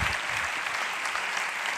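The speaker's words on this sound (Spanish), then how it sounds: "Un fuerte aplauso para Isabel Moreno." An audience in a lecture hall applauds a speaker with steady, dense clapping that holds at an even level throughout, fairly close and full.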